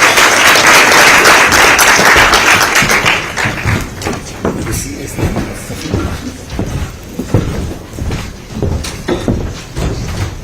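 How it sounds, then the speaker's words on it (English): Applause from a crowd, loud at first and then thinning into scattered claps and thumps, with movement noises as it fades. "Let's give them a round of applause as they come on stage."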